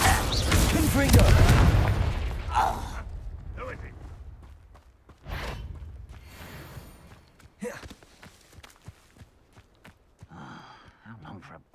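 Confringo spell blasts in the video game Hogwarts Legacy, a loud close boom followed by several fainter explosive bursts and whooshes, with a voice calling out among them.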